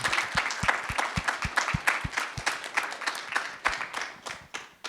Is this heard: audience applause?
yes